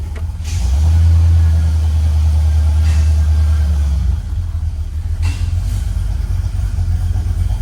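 A 1972 Oldsmobile Cutlass V8 idles very low with the AC on, a steady low, throbbing rumble, loud and close, settling slightly lower partway through.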